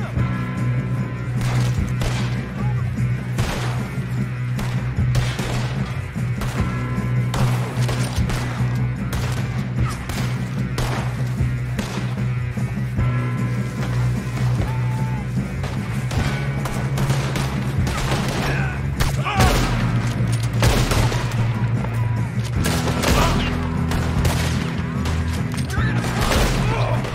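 Rapid gunfire from a Western shootout in Red Dead Redemption 2, a dense barrage of shots and impacts running continuously and loudly, with shouting voices mixed in.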